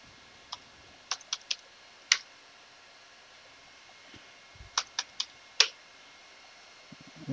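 Computer keyboard keys click while a password is typed at a login screen, a dozen sharp close taps in two short bursts separated by a pause, quiet and with no voice.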